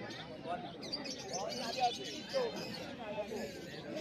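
Pigeons at a busy pet market in Kalyani, Nadia, soft cooing and chirps mixed with a crowd's chatter and someone talking nearby.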